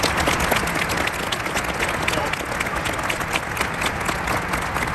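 Sustained applause from a large audience at a Boeing 747 farewell ceremony, dense and even clapping that fills the space steadily from start to finish with no voices above it.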